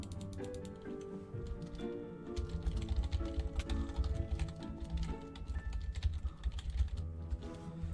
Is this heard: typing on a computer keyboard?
yes